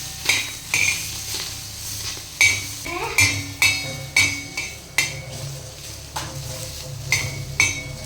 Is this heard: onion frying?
yes